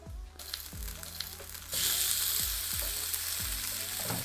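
Tofu sizzles on a hot griddle pan with a continuous bright hiss that swells louder partway through, punctuated by a few low thuds of pieces being moved or pressed.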